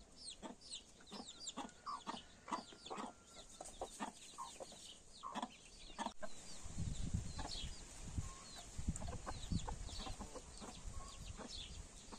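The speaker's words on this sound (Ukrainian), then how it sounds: "а ззаді мене ще одна квочка квокає з курчатами" A broody hen clucks steadily to her chicks in a farmyard, rapid low clucks repeating close by, with faint cheeping and other fowl around and a rougher, louder stretch of rustling in the second half.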